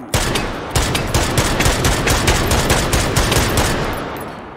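Sustained automatic fire from the M26 in the virtual-reality shooter H3VR, a loud, close, steady rhythm of about a dozen-plus sharp shots over several seconds, fading slightly at the end with no voices.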